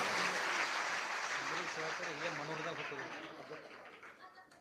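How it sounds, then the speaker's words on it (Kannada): Audience applause welcoming guests at a religious gathering, a dense crowd clapping that starts loud and slowly tapers off over several seconds, with some voices mixed into the clatter. "ಜೋರಾದ ಚಪ್ಪಾಳೆಯೊಂದಿಗೆ ನಾವು ಸ್ವಾಗತವನ್ನು ಮಾಡೋಣ"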